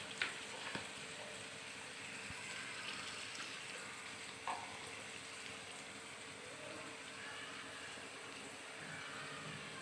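Milk cream simmers in a pot as homemade ghee is made, a steady soft bubbling sizzle with occasional scrape-and-stir knocks of a spoon, fairly quiet and with no voices.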